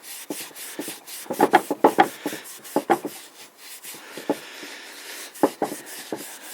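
Cloth rubs and wipes in short, repeated strokes across the wooden timber of an old spinning wheel being restored. The scrubbing comes in irregular bursts, close and fairly clear, with no talking.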